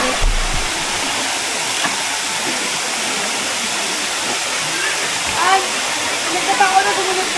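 Batlag Falls in Rizal, a steady broadband roar of falling water that fills the scene evenly from start to end, with a voice talking faintly over it.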